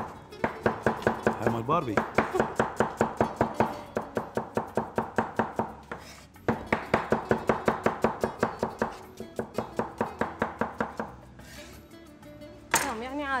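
Onions chopped with a knife on a board in fast, even rhythmic strokes, close and loud, pausing briefly between bursts while people speak quietly in the background.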